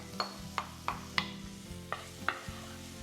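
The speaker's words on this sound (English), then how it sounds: "I'm going to add in my aromatics, which are onion," Chopped onion aromatics go into hot chili crisp oil flavored with shrimp, giving a quiet sizzle broken by about seven sharp scraping stirs at an irregular rhythm, each a brief clack against the pan.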